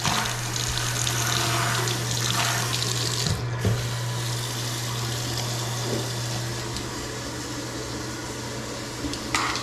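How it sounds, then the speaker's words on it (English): Hot water runs steadily from a tap in a newly built house, a continuous close splashing flow into a basin with a low mechanical hum underneath and a couple of small knocks. "We are getting hot water already."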